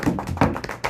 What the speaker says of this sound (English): Everybody, golf clap.